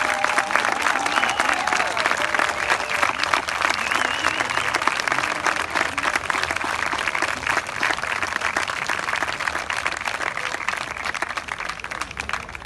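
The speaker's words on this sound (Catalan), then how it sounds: "un altre aplaudiment ben fort pels geganters i pels gegants" Loud, dense applause from a crowd at an outdoor havaneres festival in Moià, honouring the giant-bearers and their giants, sustained and even throughout with faint voices mixed in.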